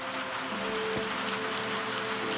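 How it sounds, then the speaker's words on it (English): Rain falls steadily in the video game Viewfinder, a constant soft hiss of drops hitting surfaces with faint low tones underneath and no speech. "Oh, I love a good rain."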